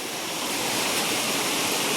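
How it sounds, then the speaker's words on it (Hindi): A river, a seasonal hill stream, flows beneath a very old bridge in the Kunigad valley, giving a steady, close, full rush of water that stays even throughout with no voices. "इसके नीचे नदी है बहती हुई"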